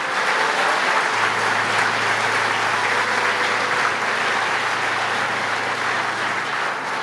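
Church congregation clapping loudly and continuously, a dense steady wash of applause from start to finish with a low hum underneath.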